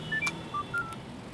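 A phone inside an auto-rickshaw gives a few short electronic beeping tones, close and clear, with no talking over them.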